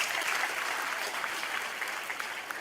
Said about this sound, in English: Let us give a solemn clap to these great teachers.